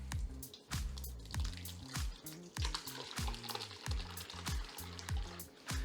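Cheese curds dumped out to drain, giving repeated wet splats and plops at an uneven rhythm, with trickling liquid in between, close and fairly loud with no talking.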